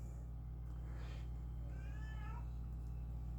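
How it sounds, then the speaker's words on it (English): A house cat meows twice in quick succession indoors, the calls moderately loud over a steady low electrical hum, with no talking. "And he's meowing for my mom."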